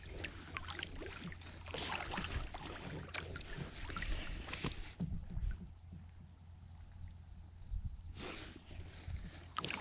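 A kayak paddle sweeps and splashes at sea off the Arisaig Skerries, with steady rhythmic strokes over a low wash of wind and water, fairly faint and continuous.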